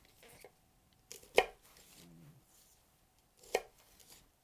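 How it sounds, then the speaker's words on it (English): A kitchen utility knife slices through produce such as a Brussels sprout or tomato on a cutting board, giving two sharp knife strikes on the board about two seconds apart, with quieter handling noises in between. "This style of utility knife is also great for a simple slice"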